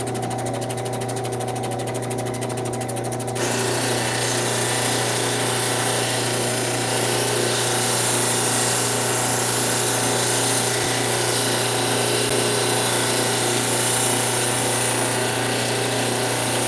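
A cabbing machine grinds a big chunk of turquoise on a 220 grit wheel, a loud, steady motor drone with a gritty, rasping grind that shifts in texture a few seconds in and then continues evenly, close up.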